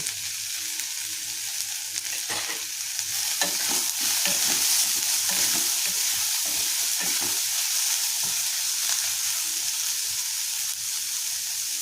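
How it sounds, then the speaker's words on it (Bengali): Onions with a little salt frying in a pan for a water spinach dish, a loud continuous sizzle and hiss with scattered clacks and scrapes of a stirring spatula, no talk. "একটু ভাজা হোক"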